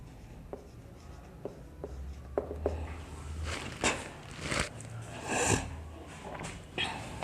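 A pen writes a solution by hand on paper during an electrical works class, giving faint scratchy strokes with small taps and rustles, close and quiet, with no speech over it.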